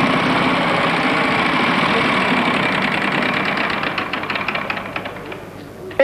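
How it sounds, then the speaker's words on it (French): The wheel being spun on the 1996 French Wheel of Fortune game show, a loud, dense rapid clatter of pointer ticks that gradually slows into distinct clicks as the wheel winds down, with no talking. "C'est à vous de jouer, vous allez lancer la roue."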